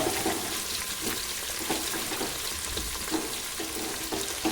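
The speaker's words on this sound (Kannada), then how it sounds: "ಇವಾಗ ನಾನು ಈರುಳ್ಳಿ ಹಾಕ್ತೀನಿ ಇದು ಚೆನ್ನಾಗಿ ಫ್ರೈ ಆಗೋ ಆಗಲಿ" Onions fry in a hot pan for a bitter gourd side dish, a steady crackling sizzle with brief stirring clatters, close and fairly loud, with no voice.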